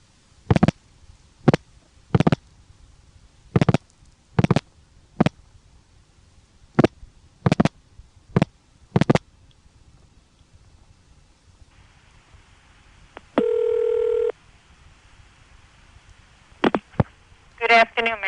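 A string of sharp, evenly loud clicks comes in bursts as a number is dialed through an ITT Pentaconta crossbar switch in a 1986 Asheboro, North Carolina exchange, followed by a brief steady tone and rapid relay chatter at the end.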